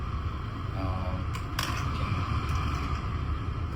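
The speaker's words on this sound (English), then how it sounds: "as you can see, the air conditioning is blowing pretty well" Air conditioning blower in a 2000 Mercedes-Benz C230K, a steady broad whooshing rush of air filling the cabin at an even level, with a couple of faint clicks partway through.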